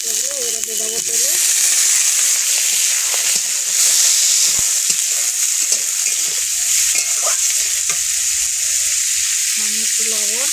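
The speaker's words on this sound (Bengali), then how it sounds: "হয়ে গেছে মশলাগুলো, এবার দিয়ে দেবো তেলে।" Ground spices with green chillies and garlic tipped into hot oil for a mixed vegetable dish, bursting into a loud, dense, crackling sizzle that holds steady with stirring, and brief voice tones at the start and end.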